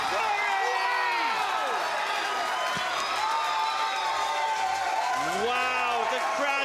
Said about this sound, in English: Wow, the crowd is going nuts.